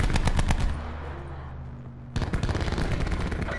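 Rapid Spitfire machine-gun fire from Black Ops 4, loud dense bursts that pause briefly around the middle, leaving a humming game background, then resume hard for the last second and a half.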